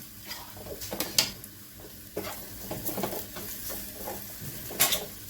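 A tadka of garlic ginger paste for whole masoor dal sizzles in a small pan, a close crackling spatter with brief bursts and metallic stirring clinks, fairly quiet, with no one speaking.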